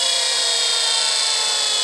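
A homemade 2x72 belt grinder for knife making runs at a fairly fast speed, giving a loud, steady high-pitched whir and hiss that holds evenly without pause.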